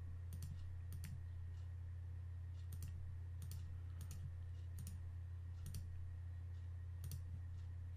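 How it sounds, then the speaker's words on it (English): Soft, faint clicks of a computer mouse come in small irregular pairs and singles while outlining a tomato with Photoshop's polygonal lasso tool, over a steady low electrical hum. "I can just start clicking around this tomato."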